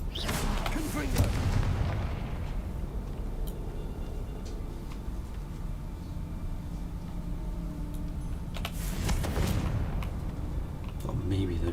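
Booming Confringo spell explosions go off in the Hogwarts Legacy video game, with a loud blast near the start and another a few seconds before the end, separated by a low rumbling lull.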